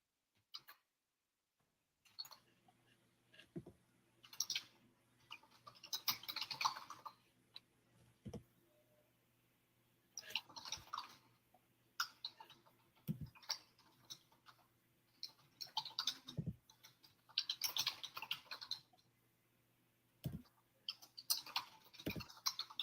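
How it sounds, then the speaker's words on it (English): Fast clicking keystrokes on a computer keyboard come in irregular bursts separated by short pauses, fairly close and quiet, with no talking. "So I'm literally just going through and typing A, B, C"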